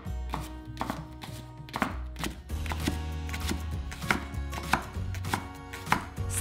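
A knife chops through leeks, white and light green parts, on a cutting board, for leek and potato soup; steady rapid close cuts with sharp thunks, alone without talk.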